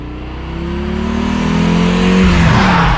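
A 1983 Audi Quattro coupé with a turbocharged five-cylinder engine accelerating hard, its loud rising tone climbing steadily through the revs, close and alone.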